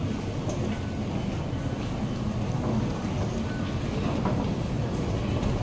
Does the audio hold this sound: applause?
no